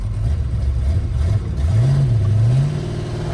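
A racecar engine with a slipping throttle cable revs loudly and close up in a low, droning tone. The pitch climbs and wavers in uneven surges but never reaches a full rev.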